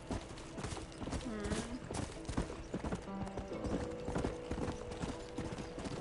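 Steady clip-clop of horse hooves from a Red Dead Redemption game plays continuously at a walking pace, with a faint whinny and people talking over it.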